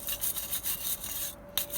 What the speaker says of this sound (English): little wire brush action.